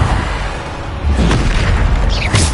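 A Bombarda spell blast in Hogwarts Legacy, a loud booming explosion amid dense spell-combat noise, with brief voiced sounds.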